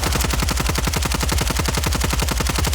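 Rapid automatic fire from the Superi gun in Call of Duty: Warzone, a fast, even, relentless stream of loud, close shots with no breaks and no talking.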